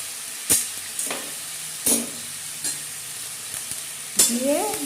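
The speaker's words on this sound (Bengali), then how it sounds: "দিয়ে ভালো করে নাড়তে চাড়তে থাকতে হবে।" Tomato chutney with turmeric and salt cooks in a pan, a low sizzle running underneath as a spoon stirs and scrapes in a few distinct, irregular strokes, close and moderately loud.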